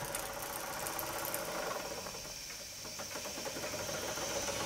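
A vintage Jensen Model 70 model steam engine runs steadily with a soft rhythmic chuffing and mechanical rattle, low and even throughout.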